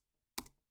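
A single short, faint burst of computer keyboard clicking, a quick few keystrokes in an otherwise quiet room.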